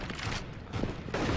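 AK rifle gunfire in a professional CS:GO tournament match, a few sharp shots in quick bursts with brief gaps, fairly close and loud over game noise.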